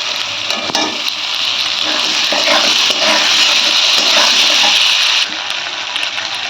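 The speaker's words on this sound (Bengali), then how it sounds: "আলু দিয়ে একটু হালকা লাল লাল করে ভেজে নেবো" Potatoes, chopped onion and green chili frying in hot oil for a Bengali fish curry, a loud, bright, steady hiss with occasional stirring clinks, close by, easing slightly near the end.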